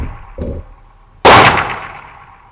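A Sig Sauer P226 X-6 Skeleton Mastershop 9mm pistol fires one loud, sharp report with a ringing decay, preceded by a faint, brief knock.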